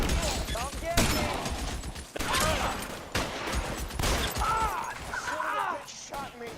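Gunfire in the L.A. Noire detective game during a shootout, with several loud shot impacts mixed with background game noise and voices talking over it.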